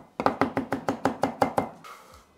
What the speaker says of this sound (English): chopping them fine with a sharp knife and with as few chops as possible